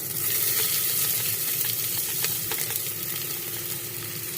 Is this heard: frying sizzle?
yes